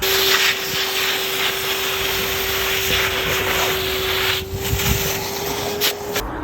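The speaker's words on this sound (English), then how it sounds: "now time to hoover all the joints clear" A pneumatic vacuum cleaner hoovers debris out of the joints of a newly grouted patio, giving a loud, steady, rushing drone with a constant whine. It runs without pause for the whole stretch, dipping only briefly near the end.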